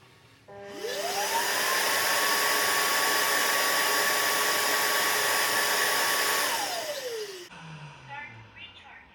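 A Roidmi EVA robot vacuum's base station loudly sucks dust out of the docked robot, a steady high-pitched whine that ramps up, holds for about six seconds, then winds down, followed by faint clicks.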